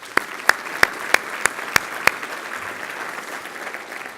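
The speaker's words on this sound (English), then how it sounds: "A round of applause for those 3 great people." Luncheon audience applauding, scattered distinct claps at a regular pace over a soft murmur of the room, thinning out after about two seconds.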